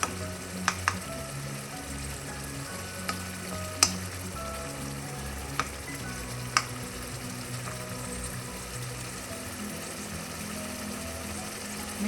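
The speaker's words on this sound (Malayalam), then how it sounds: "മീഡിയം ഫ്ലെയിമിൽ അതൊന്ന് ഫ്രൈ ആയിട്ട് നന്നായി മൂത്തിട്ടുണ്ട്" Prawns frying over medium flame with green chilies and curry leaves, a steady hissing sizzle with a few sharp utensil clicks scattered through it.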